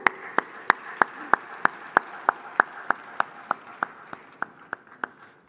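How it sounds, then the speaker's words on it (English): Audience clapping at the Afreximbank Annual Meetings in 2023 comes as sharp, evenly spaced claps about three per second, each one distinct rather than a dense crowd wash, keeping a steady unison pace for over five seconds. "Please, a round of applause."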